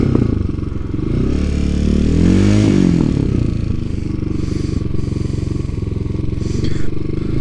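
A TaoTao TBR7 motorcycle runs close by with a loud, rumbling exhaust, the engine rising and falling in pitch as throttle is applied and released, with rattling, clattery pops and crackles.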